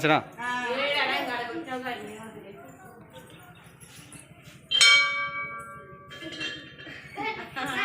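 A Hindu temple bell at a village Ramalayam temple is struck once after darshan, ringing out with a bright metallic tone that decays slowly, following and then overlapping someone speaking nearby.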